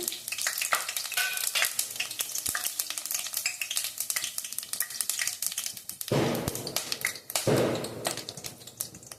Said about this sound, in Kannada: ನೋಡಿ ಎಣ್ಣೆ ಬಿಸಿಯಾಗಿದೆ. ಈಗ ಎರಡು ಪಲಾವ್ ಎಲೆ ಹಾಕ್ಕೊತಾ ಇದ್ದೀನಿ.